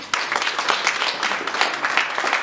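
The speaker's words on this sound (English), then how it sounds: "Round of applause, please." Audience applause at a law symposium fills the room as a speaker is welcomed to the podium: a steady, dense patter of many hands clapping at once, fairly close and even in loudness throughout.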